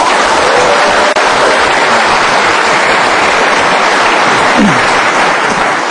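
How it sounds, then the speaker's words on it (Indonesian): A loud, steady wash of applause fills a studio audience at a motivational talk show, as the crowd claps for themselves. Dense clapping continues evenly throughout, close and sustained, with no break. "Berikan tepuk tangan untuk diri Anda sendiri."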